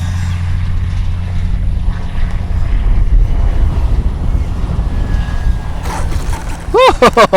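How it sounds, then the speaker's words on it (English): Heavy wind buffets the microphone in a constant low roar during an RC model jet flight, with the rising and falling whine of an FMS 70mm Yak jet near the end. "Yeah, it is super windy."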